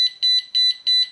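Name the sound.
Arduino Uno alarm clock buzzer sounding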